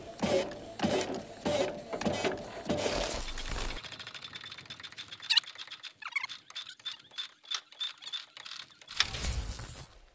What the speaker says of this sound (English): The ARB jack, this is like a new thing, hydraulic.